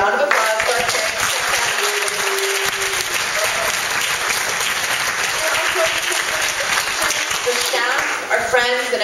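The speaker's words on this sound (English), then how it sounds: "Please join me in a round of applause for our parents." Sustained audience applause at a Rochester School for the Deaf graduation ceremony fills the hall loudly and steadily, with scattered voices and cheers mixed in throughout.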